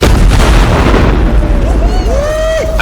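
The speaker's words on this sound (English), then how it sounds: "the biggest explosion I've ever set off in the history of my channel" Large explosion from a trap test: a loud, sustained booming roar fills the whole clip, with rumbling debris and whistling tones rising in its tail.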